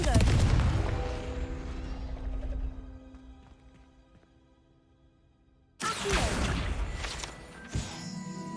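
A Confringo fire spell in Hogwarts Legacy bursts in a loud explosive blast that decays slowly, followed after a quiet stretch by a second sharp impact and rumbling.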